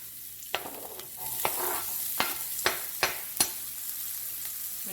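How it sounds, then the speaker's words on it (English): Onion and garlic frying in a very hot pan of oil left from frying peppers, an even sizzle broken by about seven sharp, regular spatula scrapes and taps, no speech. "I'm gonna get our onions and our garlic going."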